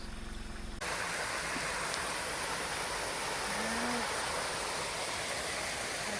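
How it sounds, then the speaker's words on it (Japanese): A waterfall and stream rushing at the foot of Mount Tsukuba near Shirataki Shrine, heard close as a loud, steady broadband wash of flowing water that swells in abruptly after a brief quieter opening and continues unbroken. "滝が続いてますね。"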